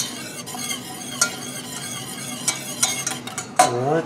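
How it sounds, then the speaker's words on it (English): Shrimp sizzle and crackle in barbecue sauce in a hot pan, with scraping stirs and a few utensil clicks, close and steady. "Let me show you what the shrimp are doing. That just are starting to sizzle."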